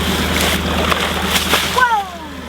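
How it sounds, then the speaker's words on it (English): Water from a cow's trough overflowing and running splashes steadily close by, with a brief burst of voices partway through. "Cow's water's over and running."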